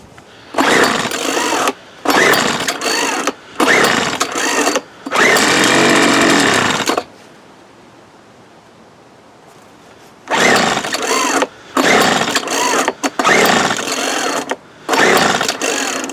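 A 1997 Weed Eater BV 1800 blower with a 24cc two-stroke engine and a poor carburetor, pulled repeatedly: loud, close bursts of cranking and sputtering engine noise in separate pulls, with a quiet pause midway.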